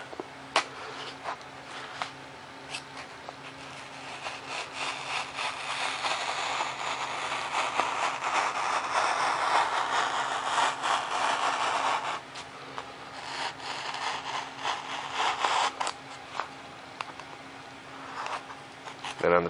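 Foam board being freehand cut into fuselage pieces for a Super Cub model plane, a close, continuous scraping and rasping with short sharp strokes, swelling in the middle and running under someone talking.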